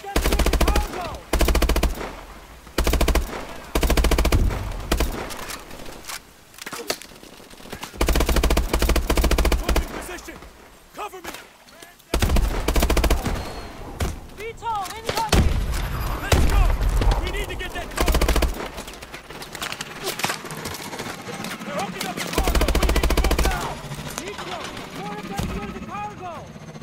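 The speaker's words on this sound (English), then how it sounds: "Open fire when we're in position, Alona." Rapid automatic gunfire and single shots from the Call of Duty: Advanced Warfare video game, loud and dense in repeated bursts, with shouted in-game voices over combat noise throughout.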